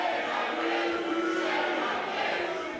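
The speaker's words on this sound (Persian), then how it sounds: "نمایندگان حزب حاکم را هو کردند و با فریاد خجالت بکشید بدرقه ایشان کردند" Crowd of protesters booing and shouting shame at ruling party MPs outside Parliament, a continuous roar of many voices at some distance.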